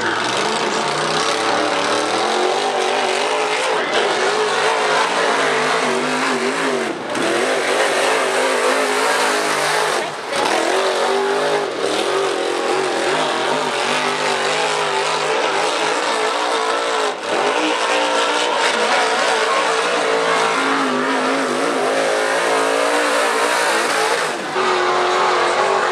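IMCA modified race cars running qualifying laps at Cottage Grove Speedway, engines roaring loud and steady throughout with rising and falling revs as cars pass and change pitch, no talk.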